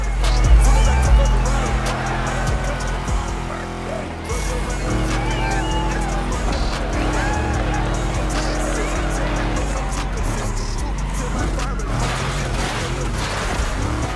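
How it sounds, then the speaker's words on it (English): Car engines in The Crew Motorfest racing game on Oahu, Hawaii: a continuous loud engine drone with shifting revs and tire noise, mixed with speech. "Let's hear these engines."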